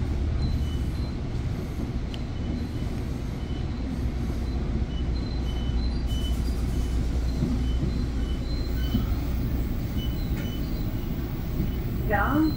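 Exo commuter train riding the Candiac Line, heard from inside the car: a steady loud rumble of wheels on rail with constant low roar and faint higher squeals, continuous throughout.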